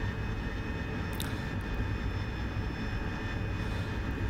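Continuous broadband roar of an AV-8B Harrier jet engine climbing away after a short takeoff with thrust coming back in DCS flight simulator, steady and loud throughout with no voices.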